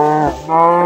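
A cow in the video game Minecraft gives a short, loud, close moo, a single low drawn-out call broken by a brief dip midway.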